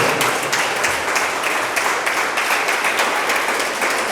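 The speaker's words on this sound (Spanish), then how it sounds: "Denles aplausos al Señor" Church congregation applauding during a Christian sermon, a dense steady wash of many hands clapping that stays loud and even throughout with no voices on top.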